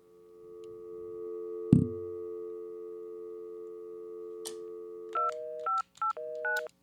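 A telephone prop built for a TV premiere event is lifted off the hook with a thump, giving a steady dial tone, then a quick series of touch-tone dialing beeps plays close and clear with no voices.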